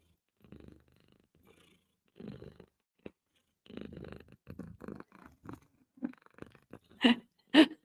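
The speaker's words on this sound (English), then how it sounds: "Can you guys hear the purring?" Soft, intermittent purring rumbles in short close-up bursts, quiet and uneven, with a couple of sharper louder sounds toward the end.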